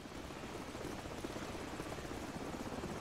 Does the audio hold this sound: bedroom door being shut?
no